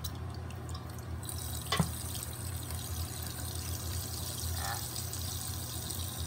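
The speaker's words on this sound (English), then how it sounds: "Now I'm going to rinse it out with some water." Water runs steadily while a doll's bottle is rinsed out, a continuous splashing pour with one brief sharp clink partway through.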